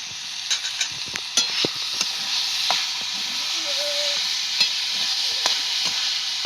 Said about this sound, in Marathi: हळद मीठ टाकून चांगलं परतून घेणार आहे आता